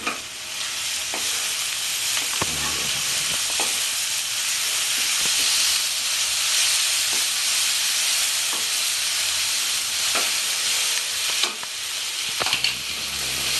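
About half a teaspoon of ginger garlic paste fries in a pan with a loud, steady sizzle and hiss, broken by a few sharp clicks of a spatula stirring nearby.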